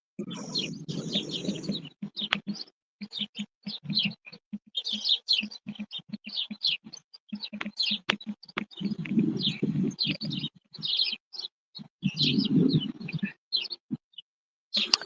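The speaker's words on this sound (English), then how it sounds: "We hear the birds out there, Miss Patrice." Birds chirp and tweet outdoors in quick, repeated bursts, with some cooing mixed in, moderately close and fairly steady throughout.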